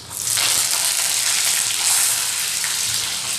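Curry leaves hit hot oil for Maharashtrian kande pohe, setting off a loud, steady crackling sizzle that starts abruptly and holds close and dense throughout, with no voices.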